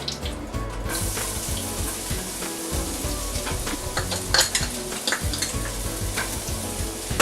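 Garlic sizzling in butter in a pan for a chicken piccata sauce: a loud, continuous hiss and crackle with clattering stirs throughout, close and with no voices over it.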